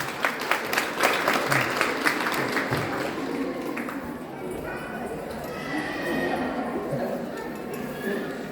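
An audience gives a run of clapping during a blessing ceremony. The claps are brisk and uneven at first, then fade into a murmur of crowd noise, with voices present throughout.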